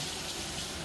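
A water tap runs in a steady, dense rush to wet a Braun coffee maker during cleaning, heard only briefly and close up.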